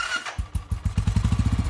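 A nearby motorcycle engine putters in a quick, even rhythm of throaty pulses that settle into a steady idle over a couple of seconds.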